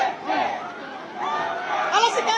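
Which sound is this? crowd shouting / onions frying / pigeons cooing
crowd shouting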